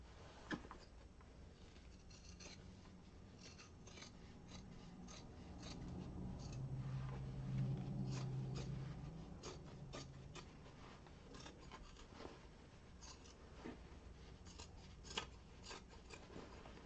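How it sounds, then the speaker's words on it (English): Scissors snipping through fabric to trim sewn seam allowances, a run of small crisp cuts across a quiet sewing room with faint background hum. "now we can go ahead and we can trim our seam allowances down"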